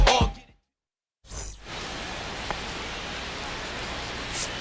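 Steady broadband rain hiss during a Dodgers ballgame in the MLB The Show 25 video game, rising after a brief silent gap and continuing evenly to the end with a small swish near the close.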